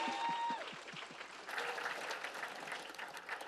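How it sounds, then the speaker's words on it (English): Applause from an audience at a mental health keynote event, starting after a brief tone and swelling into steady mid-distance clapping that continues to the end. "Give him a little round of applause."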